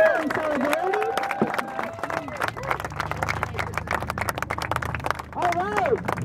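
A protest crowd in Chicago claps and cheers for Fight for 15 workers, a dense burst of applause that builds and then thins out, with voices speaking over it at the start and end.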